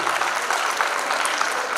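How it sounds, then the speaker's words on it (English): Steady applause from a crowd at a community Diwali dinner, dense clapping throughout with no pauses. "Big round of applause for Prashant Bhai, please."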